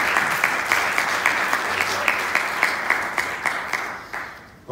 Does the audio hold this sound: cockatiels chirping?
no